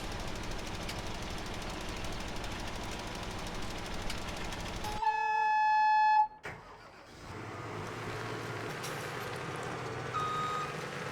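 Truck in Farming Simulator 17 with a steady engine drone, then a clear, insistent run of electronic reversing beeps for about a second before the engine rumble takes back over.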